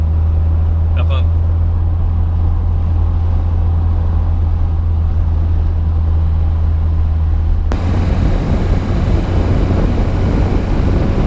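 A 1972 BMW 2002tii on the move, heard as a loud, steady low engine drone with road noise that carries on without a break, its tone shifting slightly partway through.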